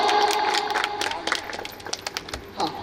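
Crowd of guests clapping at a birthday party, a dense patter of hands with a few cheers mixed in, steady and fairly close for a few seconds.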